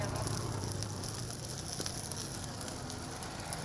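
Stone fish deep-frying in hot oil at a roadside fish stall in Salem, with a steady, even hiss and fine crackling that goes on without a break.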